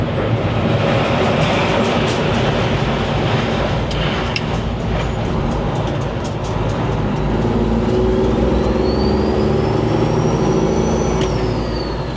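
A loud, continuous rumble and clatter of a freight train passing very close overhead, with rhythmic wheel clacks and a faint high squeal near the end.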